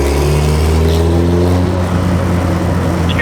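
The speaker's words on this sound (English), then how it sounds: "you can hear the turbo spooling so well" A street-tuned turbocharged Honda Civic making around 500 wheel horsepower drones loudly under steady engine load, with a layered harmonic whine from the spooling turbo running close and continuous.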